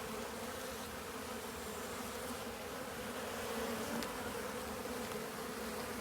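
Honeybees drone in a dense, steady buzz around an opened hive holding tens of thousands of bees, a continuous close hum with no voices.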